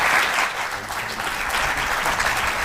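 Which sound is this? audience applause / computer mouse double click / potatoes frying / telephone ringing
audience applause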